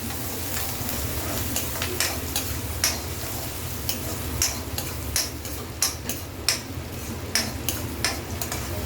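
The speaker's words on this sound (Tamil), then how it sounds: "நல்லா வதக்கி எடுத்துக்கலாம்." Onions and curry leaves fry in oil with a steady close sizzle. Sharp ticking scrapes of a stirring spoon against the pan come in an irregular rhythm, and no one speaks.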